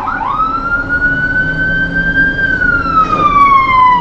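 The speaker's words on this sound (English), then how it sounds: "there's a siren blowing here somewhere" A wailing siren sweeps slowly up and then back down in pitch, steady and loud over a dull background rumble.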